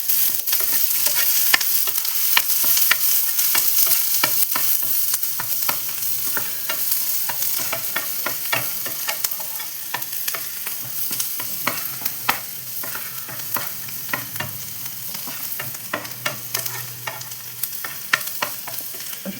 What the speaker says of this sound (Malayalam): എല്ലാം ഒന്ന് നമുക്ക് സോട്ട് ചെയ്യാം